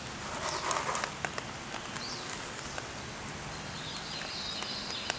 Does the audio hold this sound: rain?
yes